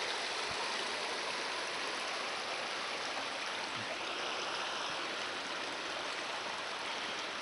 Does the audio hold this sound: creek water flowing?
yes